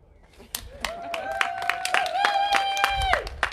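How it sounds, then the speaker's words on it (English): Scattered outdoor claps and a few cheers for a steel band, sounding close. A sustained, rising tonal call rings over the clapping for most of the stretch. "please, a round of applause for the band"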